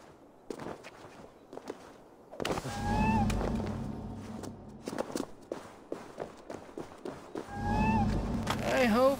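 In Assassin's Creed Valhalla, set in Asgard, a cat gives a few short meows in two bursts over footsteps and game sounds.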